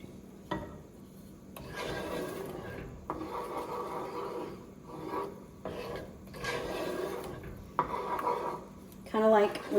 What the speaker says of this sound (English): We are going to stir this continually until it starts to, till the butter and the sweetened condensed milk are combined and it starts to bubble